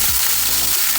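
Tuna fillets fry in hot oil in a pot with a loud, dense, hissing sizzle and a brief low thump near the start, close and with no speech.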